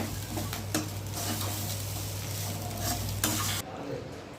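Cooked rice stirred and mixed with fried ladies finger in a pan, steady spoon scraping and light clinks over a faint sizzle, close and continuous, with the stirring stopping near the end.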